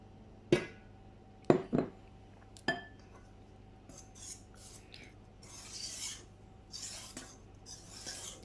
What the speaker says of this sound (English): gently fold it in with my whisk initially, and then later on I'm gonna use the spatula.